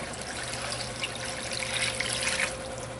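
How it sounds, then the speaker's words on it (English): Water pours from a tap over chicken pieces in a pot for a low-carb stew, a steady close trickling and splashing stream lasting throughout, with no talk. "I'll cover this with water."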